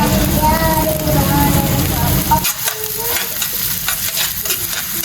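Chopped onion sizzles loudly in hot oil in a pan while being stirred for thukpa, a steady crackling fry that thins after a couple of seconds into quieter sizzling with scraping stirs.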